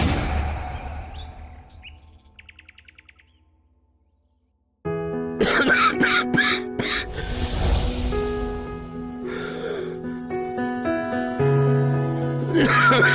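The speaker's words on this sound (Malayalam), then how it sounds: "നല്ല ചുമയുണ്ടല്ലോ" A man coughs near the start during a domestic scene in a Malayalam TV serial. The brief rough bursts fade out, with faint bird chirps, a moment of silence, and then loud background music.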